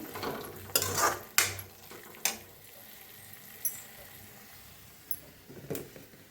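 Chicken masala fries in oil in a pan while a spoon clatters and scrapes against the metal in irregular bursts. A soft sizzle sits underneath, fairly quiet and close, with no talking.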